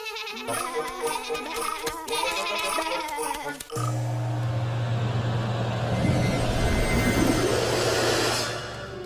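Sheep bleat in a flock, with several wavering calls at the start over a busy, noisy background that later turns into a broad, steady rush.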